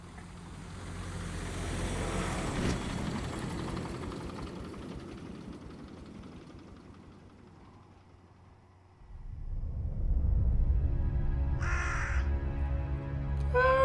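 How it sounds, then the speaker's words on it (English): Crows cawing in a wasteland scene from a Warhammer 40k animation, rising over a low engine-like rumble, with a deeper idling roar surging in near the end. "Birds are really cool."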